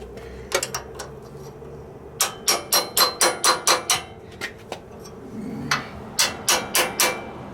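A hammer taps a part on an old tractor with sharp metallic knocks: a few scattered strikes, then a quick run of about eight evenly spaced blows, a pause, and another rapid burst of five.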